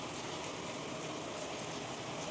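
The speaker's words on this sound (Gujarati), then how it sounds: "વરસાદ તો ચાલુ થઈ ગયો છે" Soft, steady rain falling, a continuous faint wash of drops with no voices.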